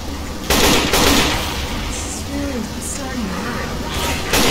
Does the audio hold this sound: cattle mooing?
no